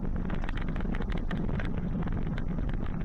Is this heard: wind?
yes